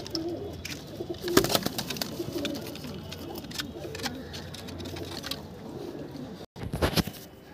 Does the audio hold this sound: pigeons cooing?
yes